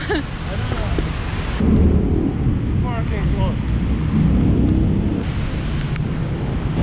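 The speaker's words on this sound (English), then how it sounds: "Just crazy rain." Steady heavy rain roaring with low rumbling like distant thunder and wind buffeting, on a road in Malaysia, while a person speaks briefly over it.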